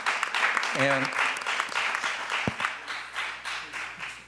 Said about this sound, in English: How about a big round of applause for them taking their time to come out with us today.